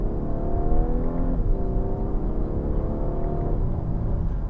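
A 2018 Audi A5 Coupe accelerates with a steady engine drone that climbs in pitch, dips briefly at two gear changes and then keeps rising.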